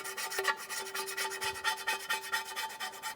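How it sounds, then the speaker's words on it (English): A razor blade scrapes old gasket material off the oil pan of a 1998-2010 Volkswagen Beetle in quick, repeated rasping strokes, close by and fairly loud. "Just take a razor blade and just take off any gasket material."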